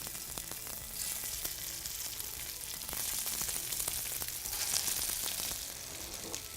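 Fish cakes shallow-fry in a generous layer of oil in a heavy pan, giving a continuous bright sizzle with crackling pops throughout.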